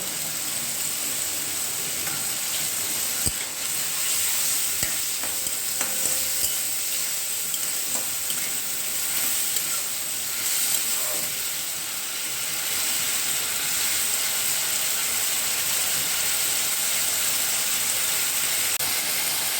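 Potatoes sauté with spices in a pan for chhola masala, a steady loud sizzle and hiss throughout with occasional stirring clinks, no voices.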